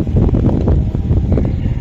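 Wind gusting outdoors while pigeons are shown, a steady, loud low rumble buffeting the microphone across the whole moment, with no speech.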